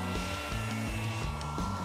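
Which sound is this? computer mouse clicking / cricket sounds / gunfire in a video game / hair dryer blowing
hair dryer blowing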